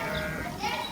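Sheep on a village farm during the rainy season give a short, close bleat that lasts under a second over a steady wash of background noise.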